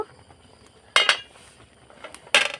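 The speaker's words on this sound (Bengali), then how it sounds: "তো বন্ধুরা আমি এবার ঢাকাটা খুলে দেখব" A lid is taken off a cooking pot of sago and milk payesh, giving two short, sharp metallic clinks close by, separated by a quiet pause.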